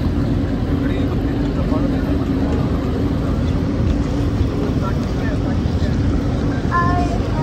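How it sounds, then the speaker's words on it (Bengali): A tour boat's engine drones steadily as the boat heads out toward the Rhine Falls, a constant low rumble mixed with water and wind noise, with people talking over it. "আমাদের বোট ছেড়ে দিছে।"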